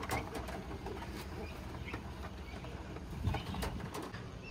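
Pigeons cooing softly inside a loft, low murmuring coos repeating under faint background noise, with occasional brief rustles and a few distant sharper sounds.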